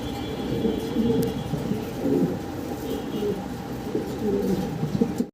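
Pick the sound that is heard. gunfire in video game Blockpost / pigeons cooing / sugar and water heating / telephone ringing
pigeons cooing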